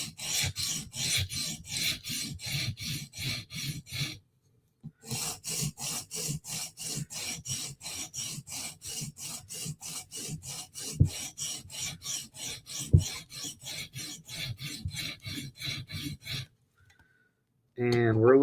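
Knife edge scrubbed back and forth on a sharpening stone to remove a burr, a steady run of rhythmic rasping strokes with a brief pause partway through, close and clear, ending with a short different sound.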